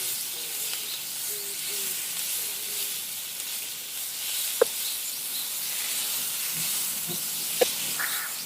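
A cheese bread omelette cooks slowly in a pan on a low stove flame, giving a soft, steady sizzle and hiss with a couple of faint clicks and no talking.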